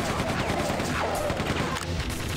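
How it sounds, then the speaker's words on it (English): Sustained machine gun fire in the Quake 2 first-person shooter, a dense loud continuous rattle of shots running for the whole stretch with no pauses. "we can have fun with our machine gun again"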